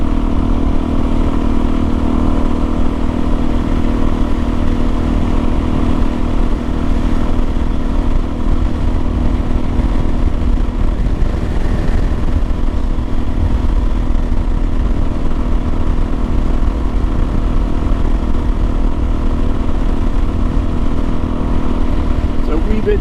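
A Suzuki DRZ400 dual sport motorcycle drones along at steady speed, its loud mid-range engine note holding nearly constant under rushing wind, with light clatter and no clear shifts in pitch.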